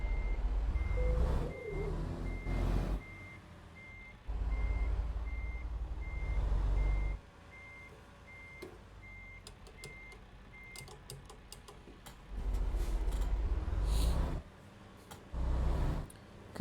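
A truck backs up at a gas station, with an evenly spaced reversing beep sounding over bursts of rumbling diesel engine and a hiss of air brake, and no talk.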